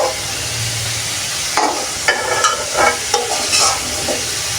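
Potato pieces fry in hot oil with a continuous sizzle, then scrape and clatter sharply as they are stirred and lifted out of the pan, close up and with no talking.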